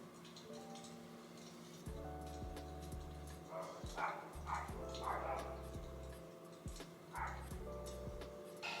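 Several household dogs bark in short, repeated bursts, fairly faint and in the background, under steady music.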